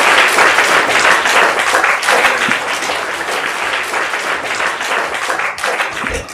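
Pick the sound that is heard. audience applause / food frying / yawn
audience applause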